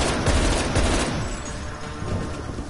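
Dense rapid gunfire in Call of Duty Cold War zombies mode rattles loud and continuous, with booming shots layered over one another throughout.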